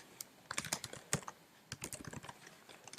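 Fingers tap out short bursts of keystrokes on a computer keyboard, quick clicks in two brief runs separated by a pause, close and quiet.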